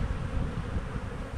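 Honeybees buzzing around an open hive box, a dense low steady hum close by, faint and continuous with no talk over it.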